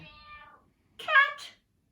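A cat meows twice, the first a fading tail and the second a clear, bright meow, with silence between.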